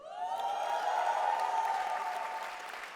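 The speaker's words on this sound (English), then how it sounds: "I'm expecting a cheer here, of course." Audience applause with light cheering at a business speech, as the Siemens contingent in the crowd responds; steady, dense clapping fills the hall for a few seconds, then tapers slightly.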